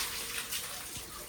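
Water running steadily as a container is filled again, a continuous close rushing splash that stays even and moderately loud with no voices.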